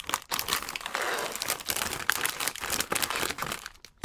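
Crinkly plastic packaging of einkorn cookies is pulled open up close, a loud, continuous crackle and rustle with sharper crunches and brief pauses, no voices.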